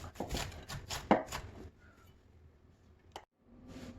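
A knife chops an onion on a board in a quick run of sharp, close strokes, then pauses before a single later cut, with no voices.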